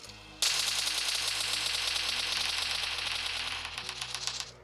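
Rapid automatic gunfire in PUBG Mobile rattles loud and close in a continuous burst while a bot is shot down, easing slightly toward the end.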